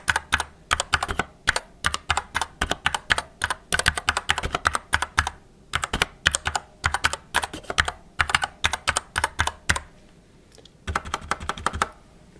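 Mechanical keyboard keys on a GG Champion's Bane being typed close to the microphone, in bursts of rapid clicky keystrokes with a few short pauses and no talking.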